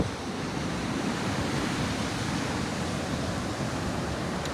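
Atlantic Ocean waves break on a beach at Cape Coast, Ghana, making a loud, continuous roaring wash of surf close by with steady wind, and no voices.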